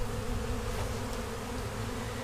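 A small honey bee colony buzzing steadily and close during a hive removal in November, a dense continuous drone with no talk.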